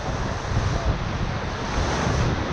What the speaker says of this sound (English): Good splash in it.